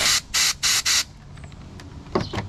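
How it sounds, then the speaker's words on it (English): Four short bursts of canned air spraying into a robot vacuum's sensors hiss in a steady rhythm, loud and close, followed by faint clicks and a couple of brief rustling sounds. "And you just want to spray all in there."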